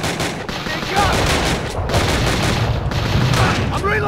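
Rapid gunfire from the PSP shooter Call of Duty Roads to Victory, loud bursts of repeated shots layered over dense game noise and explosions, continuing without a break.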